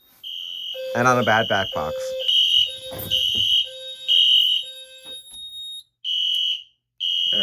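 An older Edwards horn strobe fire alarm blares in long, loud tonal bursts with short gaps during a system test, while a person speaks briefly over the first blasts.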